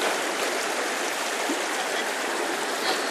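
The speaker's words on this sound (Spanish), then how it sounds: "Está corriendo el río Bonito." The Bonito river flowing through the forest near Villa La Angostura: a steady, loud, close rush of running water with a continuous broad hiss and no pauses.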